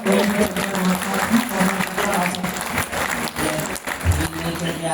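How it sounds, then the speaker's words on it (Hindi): An audience in an auditorium, Birla Sabhagar in Jaipur, applauds during a poetry event, with steady clapping running the whole stretch at moderate level, mixed with some crowd noise. "एक बार तालियां बजाते जरा।"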